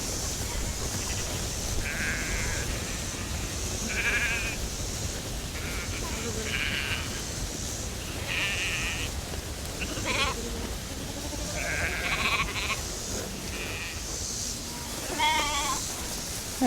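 Flock of sheep and lambs bleating on a farm while being moved through a gate into a pasture, repeated overlapping calls near and far over a constant rustling background.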